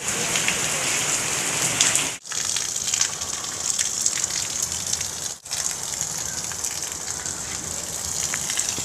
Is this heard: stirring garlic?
no